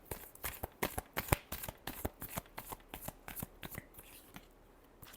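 Deck of playing cards being shuffled during a tarot-style reading, a quick close run of crisp riffling flicks over about five seconds, quiet and with no talk.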